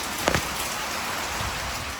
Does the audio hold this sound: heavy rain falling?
yes